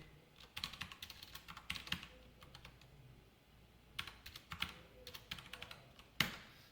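Code typed on a computer keyboard in short bursts of quick, close key clicks separated by pauses, faint and without talk.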